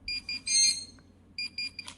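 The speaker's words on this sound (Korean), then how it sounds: "이게 삐삐삐삐 울리면서 여기 진동이 다다다다다 이렇게 와" A handheld GP-Pointer metal detector pinpointer beeps in quick, high-pitched bursts, a few short pulses, a pause, then more beeps, fairly faint against a quiet background.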